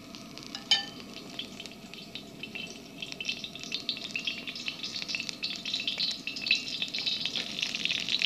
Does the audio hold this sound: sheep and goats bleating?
no